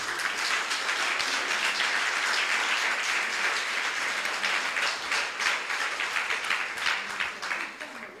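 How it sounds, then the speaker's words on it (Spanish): A church congregation claps together during a Spanish-language sermon on spiritual gifts, producing sustained, fairly even applause that tapers slightly near the end, with voices mixed in beneath the clapping. "un aplauso al Señor"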